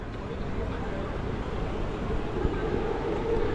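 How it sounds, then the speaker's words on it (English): A small elevated train passes overhead in a street in Kuala Lumpur, a steady low rumble and rolling roar blended with city background, with someone talking over it. "So this is a train passing up here, a rather smaller one."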